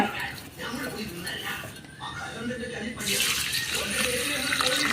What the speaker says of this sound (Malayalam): മൂന്നാലഞ്ച് വെള്ളത്തിൽ നല്ല വൃത്തിയായിട്ടിതൊന്ന് കഴുകിയെടുക്കാം